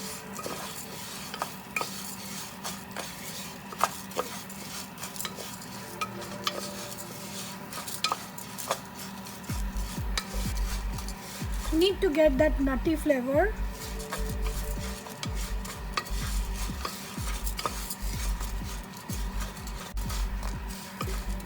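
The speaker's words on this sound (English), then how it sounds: "We are frying this orzo pasta to get that aroma." Dry orzo pasta toasting in a pan, a steady low sizzle with scraping and stirring clatter against the pan throughout, while a person talks over it.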